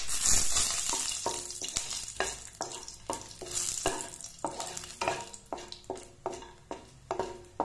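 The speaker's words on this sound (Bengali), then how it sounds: "এবারে দিলাম দুটো শুকনো লঙ্কা।" Two dried red chillies fry with whole garam masala (mace, cloves, green and black cardamom, cinnamon) in a kadhai. A spatula scrapes and stirs in a regular rhythm over a continuous sizzle, up close.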